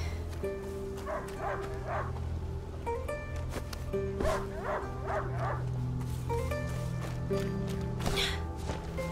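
A dog barks in repeated short bursts in the game A Plague Tale: Innocence, grouped in clusters of three or four, over a constant droning background of music and ambient noise.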